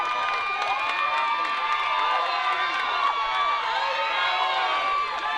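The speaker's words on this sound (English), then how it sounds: "Y'all hear that crowd behind us." A large crowd at a youth football championship game roars and cheers continuously, with high excited shouts and whoops blending into a steady, loud wall of noise.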